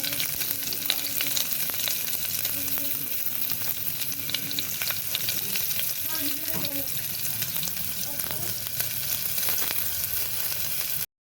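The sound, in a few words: onions frying in garlic tempering for masoor dal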